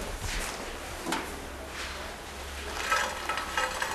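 Soft sizzling of breaded sweet fried milk frying in hot oil, faint and continuous, with occasional light stirring scrapes.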